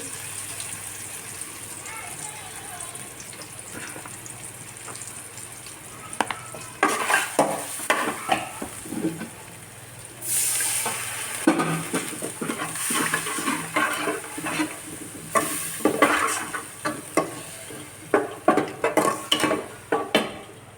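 Pomfret fish frying in a pan with spices, a steady sizzle under repeated scraping and stirring strokes that grow busier and louder in the second half, with a voice talking at times.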